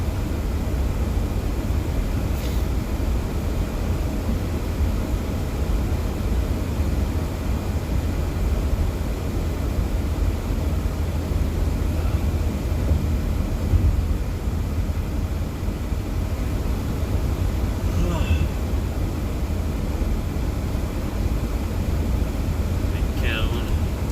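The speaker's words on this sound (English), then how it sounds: "Airport." Airport ambience: a constant, fairly faint broad roar of aircraft and ground noise with a few light clinks and rustles close by.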